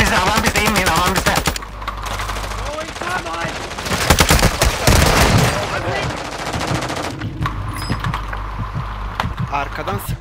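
Rapid bursts of automatic gunfire and repeated shots ring out in Call of Duty Warzone, loud and dense, with players talking over the shooting.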